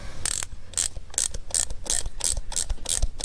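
Ratchet wrench clicking as it winds a bolt into the exhaust of a Honda GL1500 Gold Wing motorcycle, about eight quick bursts of sharp clicks in a steady rhythm, close and fairly loud with no talking.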